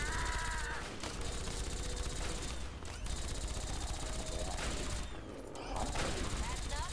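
Video game gunfire crackles in dense, sustained volleys under loud game sound, a fusillade of shots with a couple of brief dips, while a voice talks over it.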